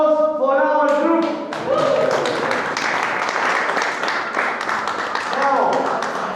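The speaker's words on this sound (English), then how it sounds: "A big applause for our group." A tour group on the Naples Underground tour bursts into close, crisp clapping after a brief spoken moment, the applause holding steady for several seconds and then tapering slightly.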